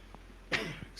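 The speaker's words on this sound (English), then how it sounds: "had to cough" A single short, sharp cough from a man, fairly close and alone, with a brief throat sound just before and after.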